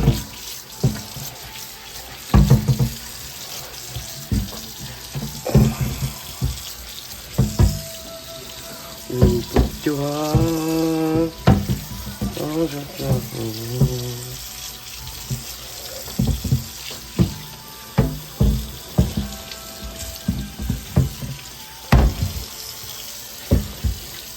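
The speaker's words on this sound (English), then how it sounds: "Let's go rinse this cutting board." Tap water runs into a kitchen sink as a cutting board is rinsed, with splashing, clattering knocks of the board, and gurgling pitch sweeps as the flow changes, close by and with no talk.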